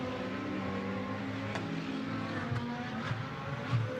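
A GT2 race car at the Algarve circuit climbs over a brow, its engine a steady droning roar with layered harmonics and a few brief clicks from shifting, heard at moderate distance under a broadcast feed.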